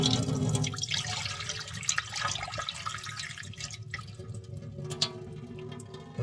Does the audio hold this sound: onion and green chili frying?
no